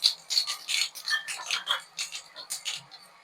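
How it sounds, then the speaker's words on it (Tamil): Mustard seeds spluttering in hot oil for a jackfruit seed curry, giving close, crackly popping in quick irregular bursts, alone without voices. "கடுகு பொறிஞ்சிருச்சு"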